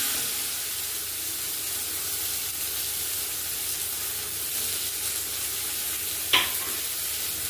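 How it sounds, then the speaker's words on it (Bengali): Chopped onion fries in hot oil with a continuous, even hiss close up, alone, with one sharp click near the end. "পেঁয়াজটা ভেজে নেবো।"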